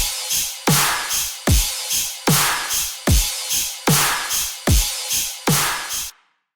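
Electronic drum loop built in Ableton for a tearout track, with punchy kicks and snares under a steady wash of rides and crash cymbals, looping in a tight repeating rhythm, loud and close before cutting off abruptly.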